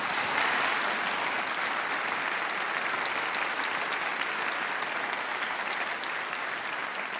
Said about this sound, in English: we congratulate you here and now with this superheroes round of applause